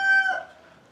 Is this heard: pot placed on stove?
no